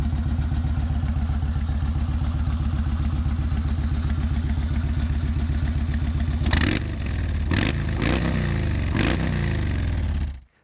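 A Yamaha Road Star Warrior 1700 V-twin cruiser motorcycle idles with a steady, deep exhaust rumble, then gets a few sharp throttle blips and revs before the engine cuts off near the end.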